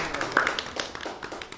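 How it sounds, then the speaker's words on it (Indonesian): An audience claps during a talk show with Paralympic athletes, giving a brief, scattered burst of hand claps that lasts under two seconds. "Tepuk tangan sekali lagi."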